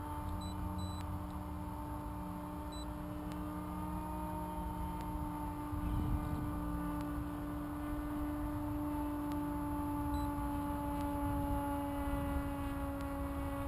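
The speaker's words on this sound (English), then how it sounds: "Now I could full throttle it, or go up to 3/4 throttle like this here." The electric motor of a large FPV wing plane runs at three-quarter throttle, a steady droning hum with clear tonal whine layered over faint wind noise, holding constant without breaks.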